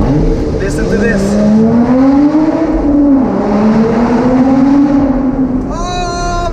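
A Lotus Exige Sport 380 sports car's engine revs hard and close, its pitch climbing and dipping through gears with a rising burst near the end, while a man exclaims excitedly over the roar.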